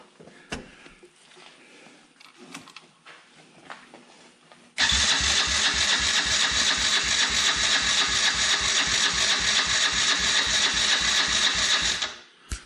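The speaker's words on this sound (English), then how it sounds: "Just gonna go ahead and try to fire it up and see what happens." A Can-Am DS90X ATV with the choke on is started after some quiet clicking and fiddling. The small engine catches abruptly and runs loud and close at a fast, steady idle before cutting off near the end.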